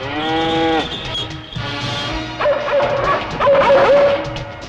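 A cow gives a loud, drawn-out moo up close, followed by a dog's sharp barks and yips in a dramatic film scene, the two animals overlapping with no speech.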